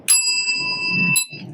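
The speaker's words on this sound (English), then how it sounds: "So this is a regular bell." A single bright ring from an ordinary uncoated bell with a sustained metallic tone, struck again near the end, loud and close.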